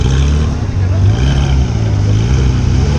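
Sports cars idle and rumble in a traffic jam at a car meet, among them a Ferrari 812 and a Porsche 991 GT3; a loud, steady, deep engine drone runs throughout while voices talk over it.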